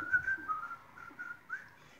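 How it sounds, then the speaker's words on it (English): A person whistles a short tune, a thin, sustained melodic line of several notes at moderate loudness, alone without talk. "They could just whistle."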